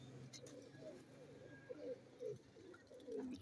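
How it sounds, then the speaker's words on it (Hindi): Teddy pigeons kept by a fancier cooing softly in repeated low, throaty phrases, close by, with a little background chatter. "ये टैडी कबूतर है"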